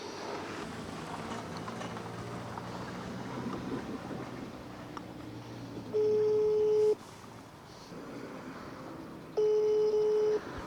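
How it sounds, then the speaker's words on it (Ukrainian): An outgoing telephone call rings unanswered, giving two long, evenly spaced ringback tones over faint room noise and soft background voices. "Відповіді на телефонний дзвінок так і не отримуємо."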